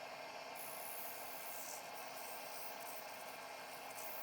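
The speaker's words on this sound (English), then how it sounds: "Starting with 80 grit sandpaper for the inside." By hand, 80 grit sandpaper rubs against the inside of a turned wood bowl, producing a steady, faint, continuous hiss of abrasive scraping with no pauses or voices.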